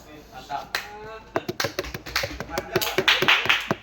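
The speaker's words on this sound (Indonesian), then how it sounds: "Kasih aplaus." Students in a classroom clap in a scattered round of applause, a string of sharp, fairly close claps building in density toward the end, with voices murmuring underneath.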